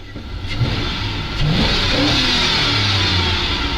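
ZIL truck engine running while warming up, a loud close diesel drone that swells into a sustained rev and holds high, steady and dominant with no voices.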